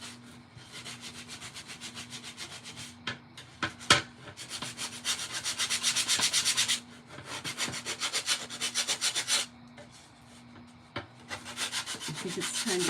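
Wood rubbed by hand with sandpaper for a rustic ghost craft, a steady close scratchy back-and-forth rasp in rhythmic strokes with brief pauses, alone under a low hum.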